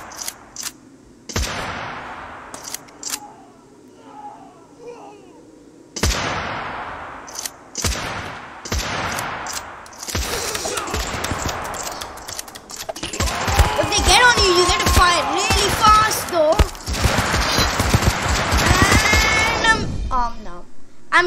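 Rapid gunfire in a zombie campaign video game, bursts of shots building into dense, continuous shooting over the second half, mixed with game clatter.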